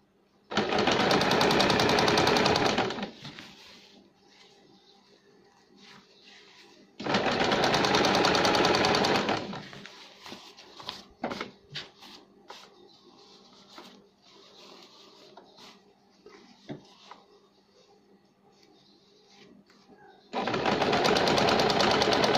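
A sewing machine stitches a lace border onto a cap for a one-year-old baby in three loud, close bursts of rapid stitching, with quiet handling and faint clicks in the pauses between.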